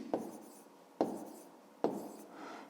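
A pen scratches numbers onto paper while a grade 5 maths exercise is worked by hand, three short quiet strokes each about a second apart, close up and with no voice.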